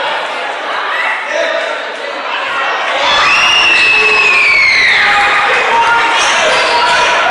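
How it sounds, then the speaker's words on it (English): Basketball fans cheer and shout in a high school gym during a Riverdale Raiders varsity home game, a loud, continuous crowd roar that swells around the three-second mark, with a whistle-like tone and a commentator talking over it. "You can hear these fans in the background making their presence known, cheering on this Raider ball club."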